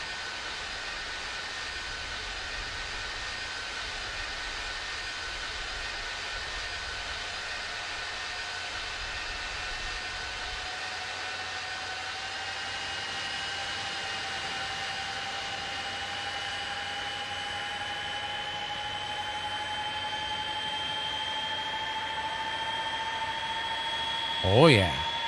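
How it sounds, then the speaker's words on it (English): Boeing 747-200F jet engines in the X-Plane 12 flight simulator, a steady broad roar with a whining tone that slowly rises in pitch over many seconds, continuous and even, ending in a brief louder thump. "let's switch to the outside and listen to the engine sounds"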